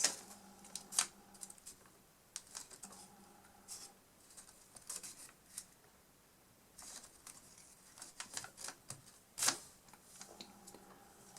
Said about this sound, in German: jetzt falten wir hier eine Diagonale und falten das Papier exakt nach